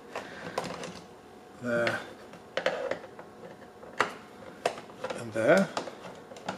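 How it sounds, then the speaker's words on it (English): Screws being removed from either side of a Mag 6000 flow meter display, a series of small clicks, ticks and brief squeaky screwdriver turns, close and faint, with someone speaking briefly. "power the meter down and then remove the screws each side of the display"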